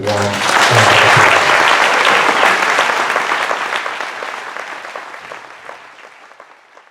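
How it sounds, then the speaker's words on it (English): An audience at a town council candidate forum breaks into warm applause in a full room, a loud burst of many hands clapping that gradually thins and fades, with a voice briefly heard at the start. "Let's give them a really warm round of applause."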